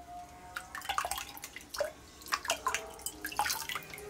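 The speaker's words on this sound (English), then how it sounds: "Just rinse that part off right there." Water drips and splashes softly in irregular bursts as a Venus flytrap is rinsed during repotting, close and quiet with a faint steady background.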